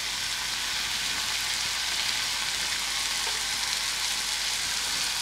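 Onion sizzling in hot oil with mustard seeds in a pan for a simple onion tomato gojju, a dense, even frying hiss that carries on without a break, close and fairly loud; no voices.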